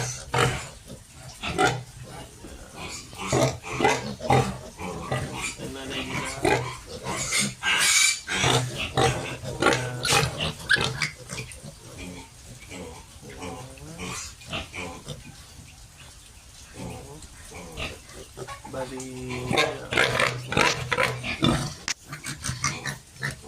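Six healthy native crossbreed piglets, 19 days old, grunt and squeal in frequent overlapping bursts close by, with occasional louder shrieks.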